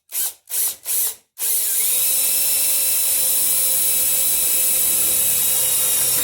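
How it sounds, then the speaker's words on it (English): A power drill bores a hole into a Craftsman metal tool box, with three short bursts of the motor revving up before a longer, steady whining drill run continues to the end. "Let's see if we can drill this. Make a little hole here"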